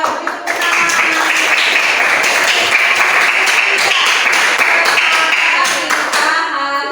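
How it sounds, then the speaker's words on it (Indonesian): A classroom of children claps their hands together, a dense, steady patter of many small palms kept up for nearly seven seconds at close range before it abruptly stops. "Coba tepuk tangan."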